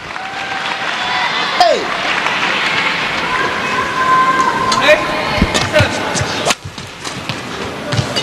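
A crowd at a women's team badminton quarter-final at the 2017 SEA Games cheers for Malaysia from the far end of the hall, a steady roar of voices and clapping with shoe squeaks and shuttle hits, under a commentator's talk.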